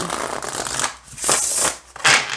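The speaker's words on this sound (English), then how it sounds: "I do not have an issue shuffling this deck at all." An oracle card deck is shuffled by hand, three quick riffling bursts separated by short pauses, close and crisp.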